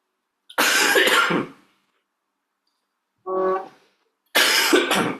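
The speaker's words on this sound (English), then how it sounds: "I'm recovering from a cough, nasty cough." Two harsh coughs sound close and loud, separated by a short throat-clearing noise, with silence in between.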